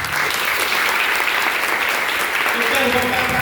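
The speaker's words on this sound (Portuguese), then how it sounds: "Pode aplaudir Jesus." Congregation in a church applauding steadily and loudly, a dense wash of clapping that fills the whole moment, with a voice speaking faintly underneath toward the end.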